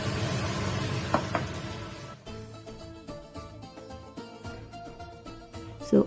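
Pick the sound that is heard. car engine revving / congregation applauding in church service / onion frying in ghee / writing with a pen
onion frying in ghee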